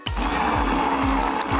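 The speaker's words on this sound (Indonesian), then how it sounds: "lalu kita blender di dalamnya" A kitchen blender runs loud and close as it blends watermelon for ice cream, a constant motor whir with a low churning thump that repeats about every half second.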